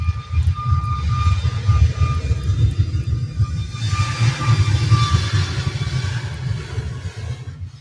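An Iceland jet airliner taxis toward the terminal at Manchester Airport, a steady low engine rumble with a faint whine, swelling slightly midway and then easing, heard alone from a moderate distance.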